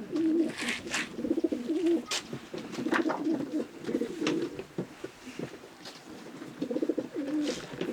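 A racing pigeon from a breeding loft coos close by, giving repeated deep, rolling coos in a steady rhythm over about eight seconds, with light rustling in the background.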